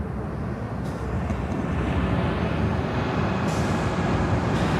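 JetBlue Airbus A220-300 jet at Chicago O'Hare, a steady distant engine rumble that builds slightly, with a few faint higher clicks over the continuous roar.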